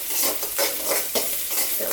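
Grated coconut sautéing in a pan for mudakathan keerai chutney, with a soft sizzle under rhythmic scraping stirs of a spoon, close and without speech.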